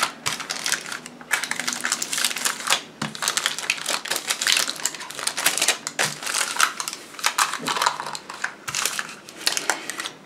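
Continuous crisp crinkling and crackling of baking paper being handled over a candle, loud and close, with dense irregular rustles and no speech.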